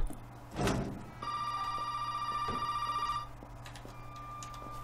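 In the Resident Evil 7 game, a telephone rings with one sustained electronic bell tone lasting about two seconds, after a thud, and then a faint quieter tone lingers amid dim background ambience.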